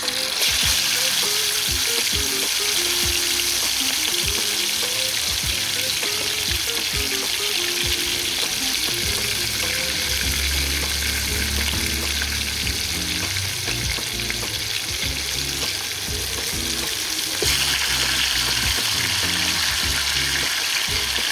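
Green chicken pieces fry in hot oil in a heated pan, a loud, continuous crackling sizzle that runs steadily throughout with slight swells, no one speaking.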